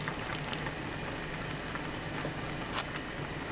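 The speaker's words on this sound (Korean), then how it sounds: "뚜껑 닫고 물이 끓기 시작하면 그때부터 5분 정도 끓여주세요." Water boiling in a covered pot for Korean soft tofu stew, a steady low hiss and bubbling simmer with faint popping, quiet and continuous with no talking.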